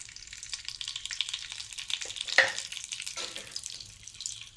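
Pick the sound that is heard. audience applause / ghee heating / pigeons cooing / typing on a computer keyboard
ghee heating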